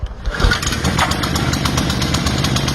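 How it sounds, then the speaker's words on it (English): The engine of a Holmatro SR20 pump catches on a pull start and then runs steadily with a close, busy mechanical rattle. "We can go ahead and grab our pull start."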